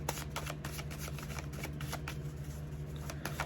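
A deck of small paper Halloween tarot cards is shuffled by hand, giving quick, close, crisp riffling bursts in a steady rhythm with no talking.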